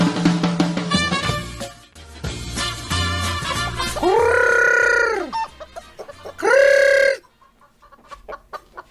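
Chickens cluck and a rooster crows at a farm yard, with layered overlapping calls and two long, loud crows standing out near the middle and end.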